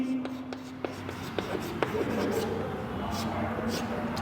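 Pen or chalk writing notes during a biology lesson on earthworms, scattered faint taps and scratches in an even run, heard close under a low voice and room hum.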